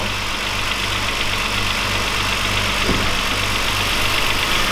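A Volkswagen Golf VR6 engine runs steadily at idle, a loud, close, continuous rumble with a throbbing low pulse and broad mechanical noise, with no talking over it.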